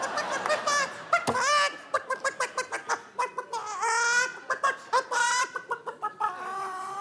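Person on a theatre comedy stage imitating a chicken clucking: a rapid series of squawks, clucks and rising cackles from a human voice, loud and close, without words.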